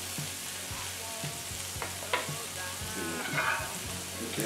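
Scallops sizzle and fry in a non-stick pan, with scattered scraping strokes and clicks of a utensil against the pan surface over a steady hiss, close up and with no talking.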